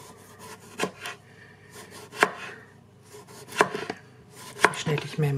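A knife cuts through cucumber on a cutting board in a run of crisp, close knocks, spaced irregularly with a few quick double taps, alone without talk.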